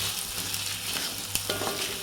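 Spices and dried red chillies fry in hot oil for a Chettinad fish kulambu, a soft continuous sizzle with a brief stirring clink, quiet and close.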